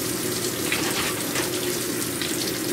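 Steady rushing hiss of cold water pouring into a washing machine, a close, continuous flow with no breaks.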